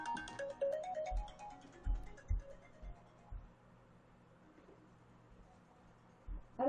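A mobile phone rings from an unknown number indoors, its bright repeating ringtone melody sounding clearly, fading under the quiet of a room with soft knocks and handling thumps, then starting again at the end.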